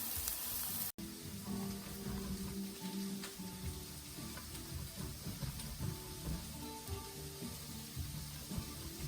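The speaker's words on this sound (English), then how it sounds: "I'm going to saute these for a few minutes" Peppers and onions sauté in a pan before ground beef is added for a cheeseburger pizza, giving a steady, moderate sizzle with faint kitchen clatter throughout.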